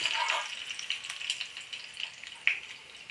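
Chana dal frying in hot oil gives a steady close sizzle, with small pops and crackles scattered over the bubbling hiss.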